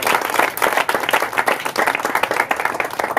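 Crowd applause for a singer at a foundation event, dense rapid clapping from many hands, loud and sustained throughout without a break.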